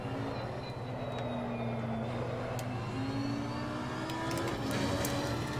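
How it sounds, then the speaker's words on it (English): Race car in the Assetto Corsa Competizione video game, its engine droning steadily with shifting pitch while it bounces over a curb, a few brief sharp clatters over the rumble, fairly quiet and without talk. "I'm going to jump this curb so you can get that nasty sound"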